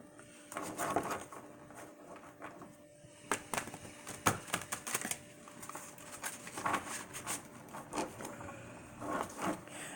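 Soft, quiet riffling and tapping of tarot cards being shuffled, with light irregular clicks and rubs close by.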